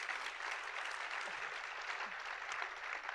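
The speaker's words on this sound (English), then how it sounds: "we should give the organizers a round of applause" Conference audience applause for the organizers at a science communication panel, a steady, moderately distant wash of clapping hands that holds level for the whole stretch.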